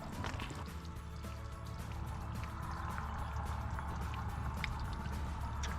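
Spring water runs steadily beside a road, a faint, continuous trickling and splashing flow heard alone without any voices.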